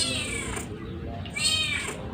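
A cat meows twice in drawn-out, close, fairly loud cries, with a brief pause between them.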